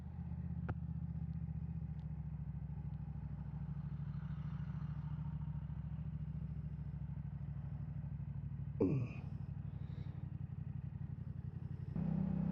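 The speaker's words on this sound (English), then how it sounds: "the CP2 just sounds good around town" Yamaha R7 motorcycle with the CP2 engine, ridden on a foggy country commute, gives a steady, close, continuous low engine drone with wind noise, and a brief rising swoosh partway through.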